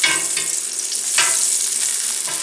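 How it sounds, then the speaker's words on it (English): Mushrooms sizzle steadily as they land in a hot pan of melted butter and olive oil, with a dense, continuous frying hiss broken by a few soft stirring scrapes and crackles. "Then we can add the mushrooms."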